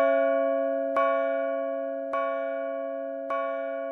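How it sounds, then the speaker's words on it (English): Clocks chime one after another in four evenly spaced, bright metallic strikes, each ringing on with a long, slowly fading tone, with no other sounds around them. "the clocks began to chime again"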